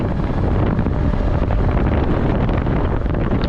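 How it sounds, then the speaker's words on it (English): Wind roaring across a microphone on a motorbike ride along a mountain road, a dense, steady, close rumble with no voices. "It's more windy now"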